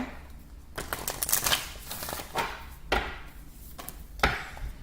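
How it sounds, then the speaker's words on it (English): Several quick riffling bursts of cards being shuffled, close by, with short pauses between the fluttering rushes. "Cards are flipping. I'm gonna go one more shuffle."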